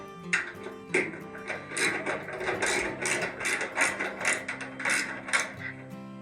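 A wrench works a screw loose, giving a rapid run of ratcheting clicks and turns in a regular rhythm, close up and fairly quiet with no talk over it.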